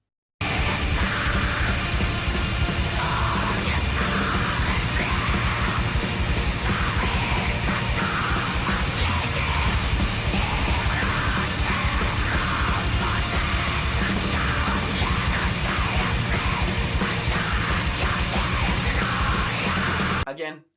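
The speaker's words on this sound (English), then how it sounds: "atmospheric black metal" Atmospheric black metal: a dense, loud, continuous wall of distorted guitars, drums and harsh screamed vocals that runs for about twenty seconds and then cuts off abruptly.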